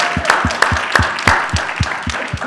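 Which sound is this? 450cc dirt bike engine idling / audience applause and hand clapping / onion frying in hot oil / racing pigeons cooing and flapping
audience applause and hand clapping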